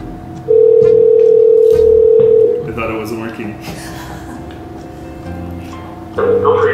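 A loud, steady telephone dial tone sounds for about two seconds at close range, followed by background noise and another brief tone burst. Speech is heard nearby.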